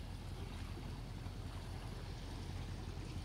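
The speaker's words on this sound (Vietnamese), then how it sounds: "Tiếng sóng nước xô gành đá" Sea waves wash against a rocky outcrop on a beach by seaside villas at Eden Bay, a steady broadband roar with wind buffeting the microphone, no voices.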